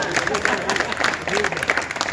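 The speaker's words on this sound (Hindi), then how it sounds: "तालियां दोनों हाथ एक बार और बजा" Audience clapping at a national poetry gathering (kavi sammelan) in Bayana; sustained crowd applause with a voice speaking over it intermittently.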